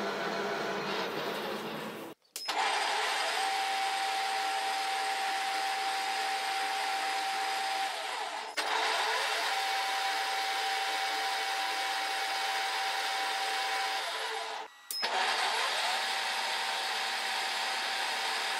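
A metal lathe turns a cone onto a threaded blank for a screw-type wood-splitter cone, making a steady whining hum that runs at length and drops out sharply three times before resuming, with no talking.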